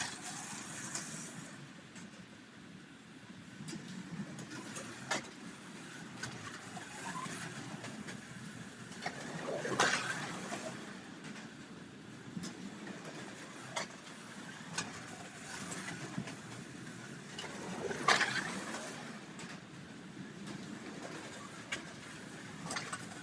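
A Porsche GT1 slot car runs laps on a track, a faint continuous whirring motor and rattling wheels with periodic louder passes as it comes near, without talk.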